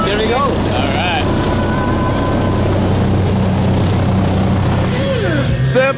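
Inside a small plane climbing before a tandem skydive, the engine and propeller drone loudly and constantly, with voices talking over the roar.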